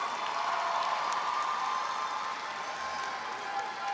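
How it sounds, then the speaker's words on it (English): Sustained, fairly distant applause from a commencement crowd honoring faculty at a fall graduation ceremony, a steady wash of clapping that holds for several seconds without pause. "Graduates, please give our faculty a rousing round of applause"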